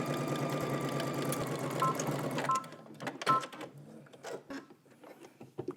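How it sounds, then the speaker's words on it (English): A home sewing machine stitches a 5/8 inch seam on a garment, running in a fast continuous whir for a couple of seconds before stopping, followed by scattered clicks and handling noises. "you're gonna head to your sewing machine. We're gonna stitch this down"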